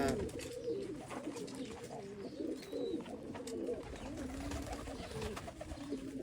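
Pigeons in a loft of the Dönek breed give overlapping, steady throaty cooing at moderate distance, with faint chirps and low background noise throughout.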